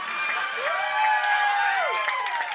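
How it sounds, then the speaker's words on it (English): A talent show audience cheers for a couple of seconds, with whooping voices and scattered clapping rising and falling together as one steady crowd roar. "can we get a cheer for the Italian Americans out here?"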